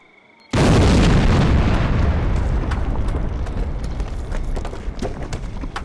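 A clocktower brought down with explosives in Demolition Company Gold Edition: after a faint click, a sudden massive blast erupts, followed by a long, loud rumble of collapsing masonry and crashing debris that slowly eases off.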